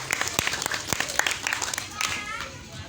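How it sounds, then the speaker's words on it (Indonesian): An audience at an Indonesian family gathering claps for a community group's leader, a lively burst of applause from many hands with voices and chatter mixed in. "Tepuk tangan dulu untuk beliau."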